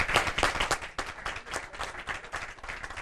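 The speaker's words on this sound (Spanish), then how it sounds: "un aplauso yo creo para ellos" An audience at a debate on emblematic high schools and education reform applauds the panelists. The clapping is dense and continuous, moderately loud and fairly near, with no speech over it.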